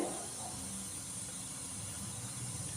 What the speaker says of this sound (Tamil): கத்திரிக்காவை நல்லா வதக்கிடுவோம்